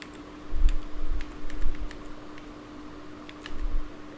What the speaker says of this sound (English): Okay, so now I am typing it here,